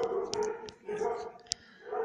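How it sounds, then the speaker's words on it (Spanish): Dogs bark in a few short, sharp bursts at a moderate distance, mixed with a low murmur of talk. "Ya comienzan a ladrar a los perros."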